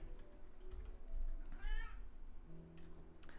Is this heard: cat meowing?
yes